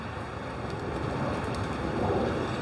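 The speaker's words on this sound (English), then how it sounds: "it started raining as soon as I said that" Steady rain pours outdoors, a continuous broadband hiss of drops with some wind noise buffeting the microphone, holding fairly constant and slightly louder toward the end.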